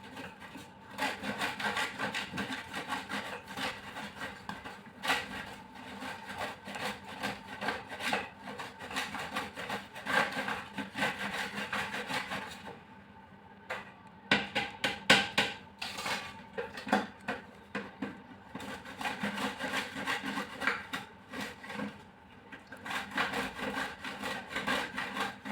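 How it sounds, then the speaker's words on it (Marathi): Coconut is grated by hand on a kitchen grater in rhythmic bursts of rasping, scraping strokes, close and fairly loud, with brief pauses between runs and no talking. "जास्त ताकद लागते खोबरं किसायला."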